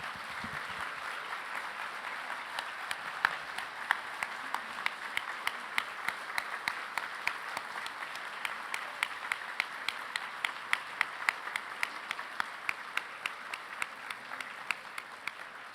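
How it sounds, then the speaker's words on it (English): Sustained audience applause for the 2019 Spirit of Aloha honorees at a JCCH recognition event, a steady dense wash of many hands with a faint rhythmic pulse of louder, synchronized claps running through it, with no talking. "Let's give them all one more big round of applause."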